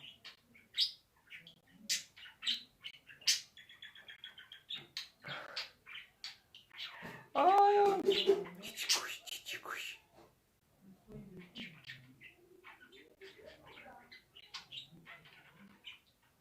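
Pet bird in a home calling with a few short, bright chirps and a brief whistled note partway through, heard close but mostly under steady nearby conversation.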